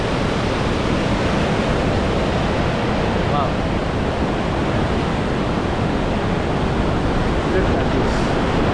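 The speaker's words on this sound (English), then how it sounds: "Powerful water. Powerful river." Powerful river water rushing in Hällefors, a loud, steady broadband roar that fills the whole stretch without letup, with no clear voices above it.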